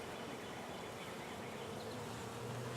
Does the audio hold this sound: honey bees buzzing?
yes